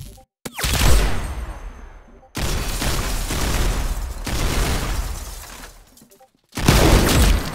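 Gunfire from the Roblox game Arsenal rattles in loud, dense bursts that repeat almost without pause, broken by a few brief silent gaps.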